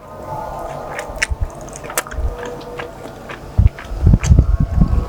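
Biting into and chewing a boiled (not fried) pempek fish cake, up close: soft squishy bites and wet chewing that grow louder and more frequent in the last second and a half.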